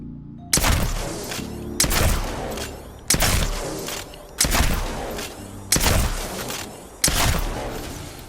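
A Peacekeeper gun in a video game fires six loud, booming shots, evenly spaced about a second apart, each one followed by a short decaying tail.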